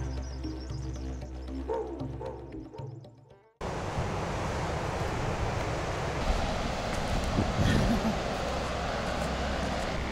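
Waves breaking on a beach, a steady broadband surf wash that comes in abruptly after a few seconds of quieter outdoor sound and continues at moderate level.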